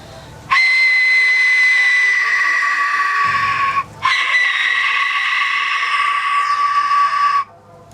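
Skull-shaped death whistle blown in two long, loud, piercing shrieks with a harsh screaming tone, separated by a brief gap and heard alone.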